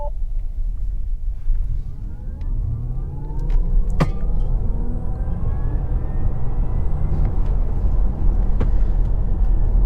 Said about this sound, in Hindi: But let's turn it on, और यहाँ पे अपन फुल थ्रॉटल दे के देखते हैं।